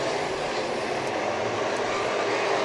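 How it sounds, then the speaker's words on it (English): A jet car roars at Eagle Raceway during a race night, a loud, continuous broadband jet-engine howl that holds steady and close throughout. "Derek Hall, first year in a jet car"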